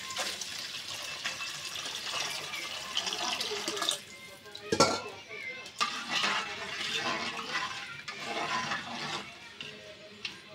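Water poured into a cooking pot for pulao, a gushing rush close by with a brief splash and clatter midway, then more pouring with faint kitchen clinks.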